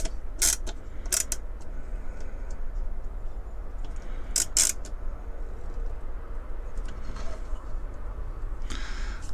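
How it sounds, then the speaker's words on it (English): A part on a Corgi 1121 Chipperfields crane model is screwed down with a hand screwdriver: several short, sharp clicking and creaking bursts, close up, spread through a low steady background. "I'm going to screw this down as tight as we can get that."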